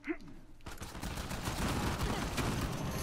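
Gunfire in Uncharted 4, a quiet moment giving way to a rapid, loud volley of shots that keeps crackling steadily for over two seconds, with voices chattering underneath.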